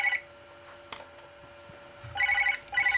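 An office telephone at a car dealership, Woodward Motors, rings in short electronic bursts, one at the start and a doubled ring near the end, moderately close in an otherwise quiet room.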